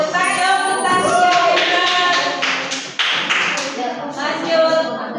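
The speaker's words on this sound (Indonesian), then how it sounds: "Tepuk dong untuk Tasya." A classroom of students clap for a classmate in a burst of close, irregular clapping and tapping, fading briefly midway before picking up again, with a teacher's voice over it.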